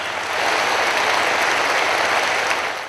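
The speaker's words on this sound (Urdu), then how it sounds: "خواتین و حضرات، آپ کی بھرپور تالیاں." Sustained, loud audience applause fills a ceremony hall, a dense even roar of clapping that holds steady for several seconds before trailing off at the end.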